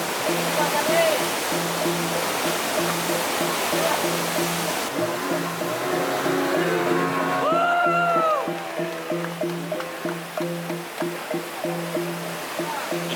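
Rapids rush loudly and steadily along a river in Kalimantan, with a constant broadband roar, an underlying low mechanical hum, and a voice briefly rising over the water midway.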